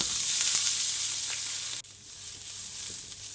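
Fresh green beans fry in sesame oil in a hot pan on high heat, giving a steady close sizzle with light stirring clatter and a brief dip partway through.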